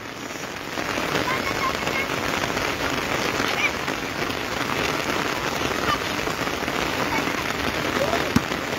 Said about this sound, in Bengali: বৃষ্টি বাড়তেছে আবার।